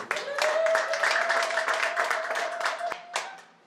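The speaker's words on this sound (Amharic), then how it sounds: "ግድ የላችሁ ካጨበጨባችሁ ለሰራዊት አምላክ ለእግዚአብሔር በደንብ አጨብጭቡ።" A church congregation claps steadily and loudly in unison, a dense wash of hands echoing in the hall, briefly tapering and then bursting again at the end.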